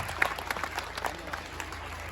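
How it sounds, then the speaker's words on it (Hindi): Audience applause at a Ramlila stage performance, a steady diffuse patter of many hands clapping at moderate distance, sustained and fairly faint throughout without pause. "इस बीच आपसे पुनः अनुरोध है कि एक बार पुनः तालियां बजाकर आप इनका अभिनंदन करें,"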